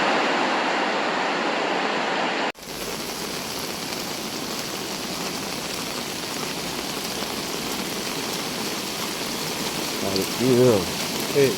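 Steady, dense rushing of heavy rain and floodwater fills the clip during a flood in Vadakkanchery, Kerala, broken by a brief dropout early on, with a faint voice near the end.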